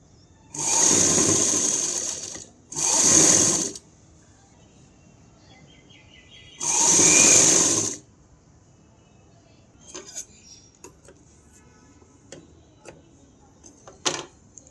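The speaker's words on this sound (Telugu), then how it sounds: "ఒక స్టిచ్చింగ్ అయితే వేస్తున్నాను ఇలా స్ట్రైట్గా ఒక కుట్టు అయితే వేయాలి" Sewing machine stitching a straight seam on a lining blouse, with three loud bursts of motor whir lasting about a second each, followed by quieter ticks and clicks of fabric handling.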